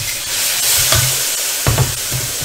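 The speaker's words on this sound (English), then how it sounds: "I'm gonna throw in the chili paste" Chili paste frying in oil in a hot wok for mamak mee goreng, a steady loud sizzle with a few stirring scrapes and bursts of spattering, no talking.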